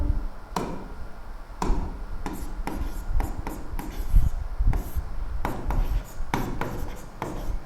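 Pen or chalk handwriting an equation for a physics lesson, a run of short scratchy strokes and taps at close range with faint background noise and no clear talk.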